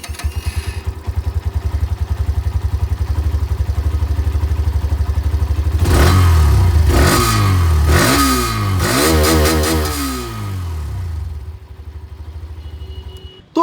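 A Hero Xtreme 125R motorcycle engine idles with a steady throb, then revs hard several times in quick bursts before settling back to idle. Close and loud, no talking.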